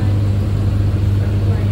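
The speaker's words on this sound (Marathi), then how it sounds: "सुटली गाडी" Underslung Medha AC EMU local train pulling away from Vidyavihar station toward Ghatkopar, a steady low motor drone with continuous rolling rumble close by, while someone talks over it.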